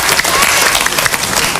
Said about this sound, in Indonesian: Tepuk tangan untuk Shirley dari Medan.